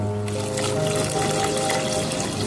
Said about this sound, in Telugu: నీళ్ళు వేసుకోండి.